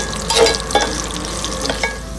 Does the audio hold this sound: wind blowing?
no